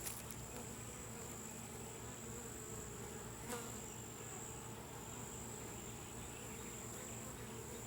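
Honey bees buzzing steadily inside an open hive during a colony inspection, a larger drone bee among them; a dense, continuous hum at moderate level with no voices.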